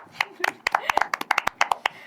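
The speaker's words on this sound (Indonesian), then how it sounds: "Tepuk tangan dulu dong buat Michi" A small audience claps for Michi during a student talk show, a loose run of distinct handclaps at an uneven rhythm, close and fairly loud.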